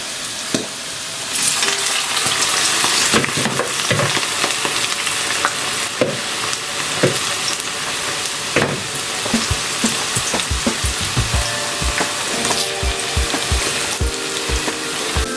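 Cassava chips sizzle and crackle steadily in hot frying oil with occasional stirring clatter, loud and close throughout, with no voices.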